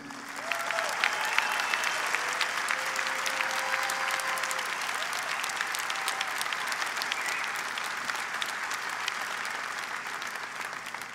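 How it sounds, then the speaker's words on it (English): Large bodybuilding crowd at the 2018 Olympia Weekend applauding the winner, sustained dense clapping at even volume with faint cheers mixed in, continuing for over ten seconds. "Let's give a great round of applause for this year's winner, Harold Kelly"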